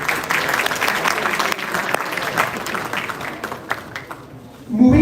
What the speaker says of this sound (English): can we please welcome them with a huge round of applause.